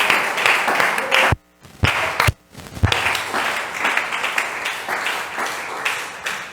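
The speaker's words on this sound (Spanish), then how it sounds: "Dele un aplauso mejor." Steady applause from a large church congregation during a sermon, loud and sustained, with a couple of brief gaps before the clapping resumes.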